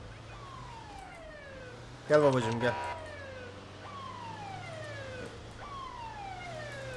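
A police car siren in the GTA 5 video game on a Turkish police mod, wailing in repeated falling sweeps under a steady engine drone, with a brief loud burst of a different siren tone and someone talking.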